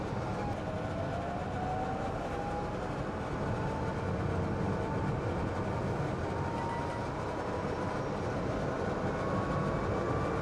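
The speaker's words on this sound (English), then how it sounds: "If I switch the fan on, it's quite noisy." Steady, loud broadband whooshing hum of the ventilation fan in a 2022 Citroen Ami Electric filling the cabin, with rumbling road and motor noise underneath and no talking.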